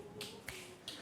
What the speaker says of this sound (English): Can you snap your fingers for me?